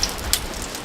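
Steady rain patters on a tent during a wet campsite pack-down, a dense close hiss with a few sharper drops striking the fabric.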